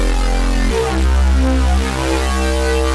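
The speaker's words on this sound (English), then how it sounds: "just the sort of pure Serum sound sounds like this." An unprocessed Reese bass patch from the Serum synth sounds alone, loud and close, a heavy sustained low tone that steps to a new note early on and keeps a slowly phasing, detuned shimmer.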